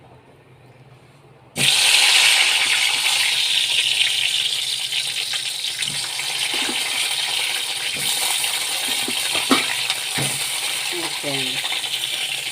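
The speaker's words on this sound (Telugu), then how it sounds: "4 టమాటాలు అయితే ఇలా ఫ్రై అవుతూ ఉంటాయి, సరిపోతుంది" Quartered tomatoes, four of them, drop into a hot pan and fry with a sudden loud sizzle that settles into a steady crackling hiss, with a few clinks and a brief spoken word over it.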